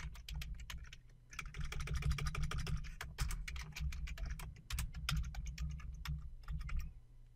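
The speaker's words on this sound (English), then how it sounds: "let me punch in my password" Rapid, irregular keystrokes on a computer keyboard as a password is entered during a software sign-in, close and fairly loud, with a steady low hum underneath and no talking.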